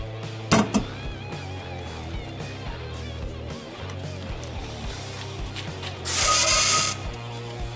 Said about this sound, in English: This is our cool fill-on machine right here that we're going to be using.